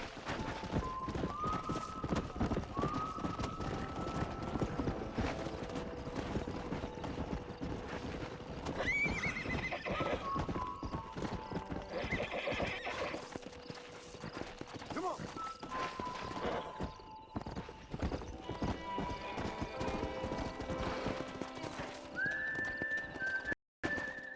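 Repeated horse neighs ring out over continuous hoofbeats and clopping in the video game Red Dead Redemption, with occasional talk and a busy, music-backed background.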